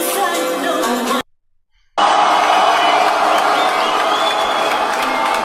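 An audience at a live DJ set at The Loft, Amsterdam applauds and cheers loudly, with a brief silent break before the clapping and whoops resume at full strength.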